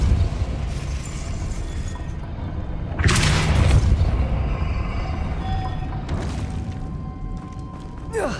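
The Depulso spell goes off in Hogwarts Legacy: a sudden burst of noisy blast energy around the middle, set against a constant ambient game bed with smaller thuds and mechanical sounds before and after.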